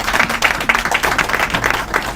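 A room of guests at a House of Lords tea party for the Asian Curry Awards launch gives a round of applause, dense rapid clapping, close and loud, with a few voices mixed in.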